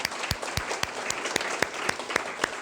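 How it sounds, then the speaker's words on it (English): Applause for library staff at a historical society lecture event, a steady crowd clapping with a few sharper individual claps standing out in a regular rhythm, moderately loud and without talk. "So big round of applause for everybody at the library."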